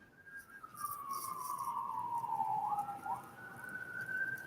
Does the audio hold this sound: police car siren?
yes